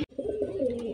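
A caged pigeon coos steadily and close by, a warm low rolling call with no talk over it.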